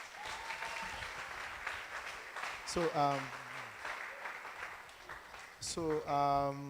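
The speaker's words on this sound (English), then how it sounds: "you really should clap for all of them" A crowd applauds steadily throughout, while a voice speaks briefly over the clapping a couple of times.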